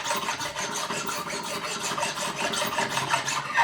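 A file rasps steadily across the frets of a cheap Chinese guitar neck during fret levelling, making a continuous close, gritty scraping with a fast back-and-forth rhythm and no pauses.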